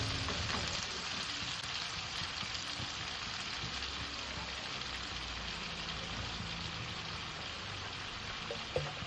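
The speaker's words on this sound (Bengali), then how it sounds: "মুসুর ডালটা দিয়ে হালকা নাড়াচাড়া করে ঢাকা দিয়ে দেব।" Masoor dal with radish sizzling steadily in a pan as it is stirred, a continuous soft frying hiss with faint scraping, no voices.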